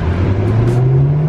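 A Porsche revs close by in traffic, a loud rising engine note climbing steadily over a short burst with no talk.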